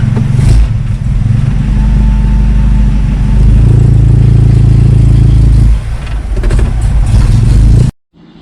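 Engine of a 1970 Datsun 521 truck running near idle around 800 RPM with a valve-train clatter, a loud, steady close-up drone that dips briefly near the end before cutting off.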